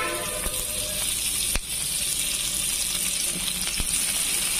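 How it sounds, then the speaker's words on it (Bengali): Oil being poured into a pan with onions, a steady close hiss and sizzle that carries throughout, broken by a couple of sharp clicks. "তেল দিলাম, পরিমাণ মতো তেল দিয়ে দিলাম।"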